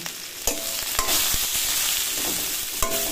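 Bitter gourd slices frying with salt and turmeric, a loud close sizzle punctuated by a few sharp utensil knocks and scrapes as they are stirred.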